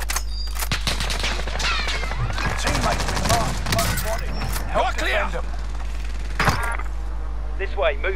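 Rapid gunfire rattles through a Call of Duty battle, with dense automatic bursts and scattered shots over continuous game ambience, alongside in-game voices calling out.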